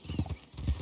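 Horse hooves clip-clopping in the Red Dead video game, a steady rhythmic trot of soft close thuds lasting under a second.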